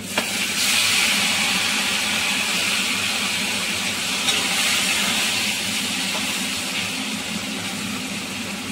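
Chopped tomatoes hit hot oil in a frying pan for a potato and vegetable curry, giving a steady, loud sizzling hiss that runs evenly throughout with no talk.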